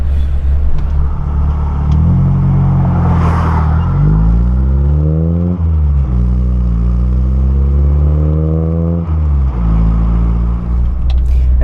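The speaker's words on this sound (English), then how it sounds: "on the overrun, it just burbles and pops ever so slightly." An Austin Metro with a Maniflow exhaust revs up and down through several gear changes, loud and close, with a throaty exhaust tone and faint burbles and crackles on the overrun.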